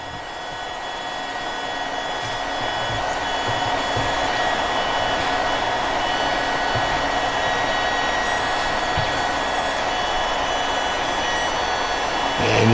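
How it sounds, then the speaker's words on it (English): Several Kingroon 3D printers running together while printing the same part, a steady mechanical whir and hum with fine stepper tones, continuous and fairly loud throughout with no talking. "So all printers now are running,"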